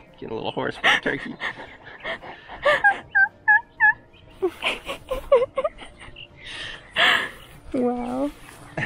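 Wild turkeys gobble in repeated rattling bursts at moderate distance outdoors, with several calls spread across the clip alongside people talking quietly nearby.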